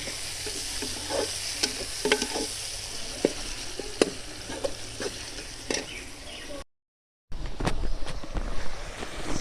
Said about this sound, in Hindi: तो यहाँ पे टमाटर हरी मिर्चें शामिल करेंगे। 2 मिनट तक इनको भी फ्राई कर लेंगे